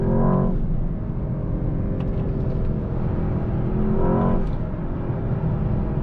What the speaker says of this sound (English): also you can hear the engine for sure